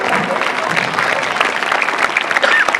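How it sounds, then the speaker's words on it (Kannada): Loud applause for students at a Kannada Rajyotsava celebration, a dense sustained patter of many hands clapping at once from an indoor crowd, continuous and fairly close. "ಪ್ರಿಯ ವಿದ್ಯಾರ್ಥಿಗಳಿಗೆ ಜೋರಾದ ಚಪ್ಪಾಳೆ."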